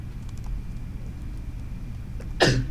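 A single sharp sneeze bursts out near the end, loud and close, after a stretch of quiet room noise with faint keyboard-like ticks in the background.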